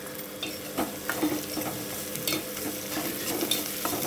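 Onions sautéing in a pan with a little salt, a soft steady sizzle with light scraping strokes of a spoon against the pan at irregular intervals.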